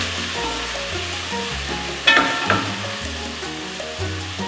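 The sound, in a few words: stirring seafood in a pot for sinigang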